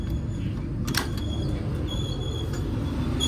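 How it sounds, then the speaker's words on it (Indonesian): A train rolls into a station on the neighbouring track, a low steady rumble of wheels and carriages with a few brief metallic clanks and squeals, heard from aboard another train. "Wah, dari sebelah masuk kereta api juga nih."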